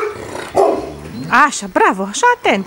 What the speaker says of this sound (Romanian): Cine o lătrat acolo? Cine o lătrat?